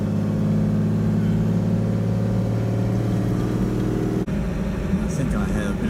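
Vehicle driving through a creek crossing on the outback track near New Crown, Eringa and Alberga Creek between Oodnadatta and Marree: a steady loud engine drone that shifts abruptly partway, followed by rougher splashing engine noise, with people talking over it.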